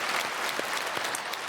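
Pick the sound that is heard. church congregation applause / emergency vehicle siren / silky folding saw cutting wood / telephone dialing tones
church congregation applause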